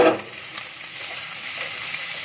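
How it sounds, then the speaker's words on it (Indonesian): Mushrooms stirred in a hot frying pan give a steady close sizzle with soft scraping from the stirring, continuous through a short stretch. "Jamur kita aduk."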